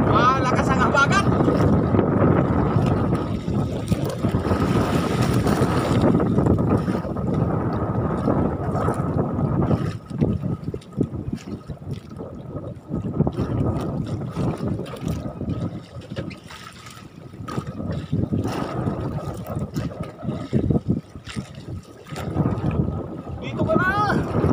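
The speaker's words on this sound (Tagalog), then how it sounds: "Lakas ang habagat." Strong monsoon wind buffets a fishing boat out at sea, roaring in loud gusts against the microphone over a low droning engine and splashing water, with voices talking now and then.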